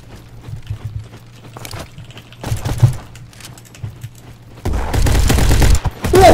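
Gunfire from Roblox Bad Business comes in scattered shots and bursts, then turns into dense, loud sustained firing near the end, with no talk.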